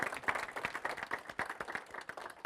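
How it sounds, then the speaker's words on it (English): An audience applauds at an AJU Master Teachers talk with Dr. Ron Wolfson, dense overlapping claps with sharp peaks, fairly faint and steady from start to finish. "Give her a nice round of applause"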